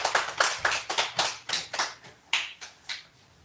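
A church congregation claps together in welcome during a Sunday worship service, a brisk run of close, sharp claps that thins out and fades toward the end.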